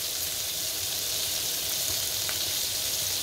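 Breaded fish sizzling steadily in hot oil in a pan, a dense continuous hiss with no break, close and fairly loud.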